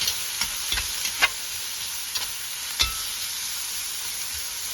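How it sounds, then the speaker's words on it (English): Garlic sautés in a pot for meatball chili, a steady hiss of frying oil with a few sharp taps and scrapes of a spoon stirring, close and without any voices. "Get all that garlic in there. Alright. Just going to get that all mixed up."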